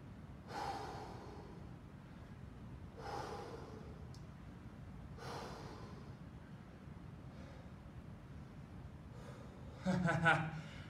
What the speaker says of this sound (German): Schön tief und ruhig atmen.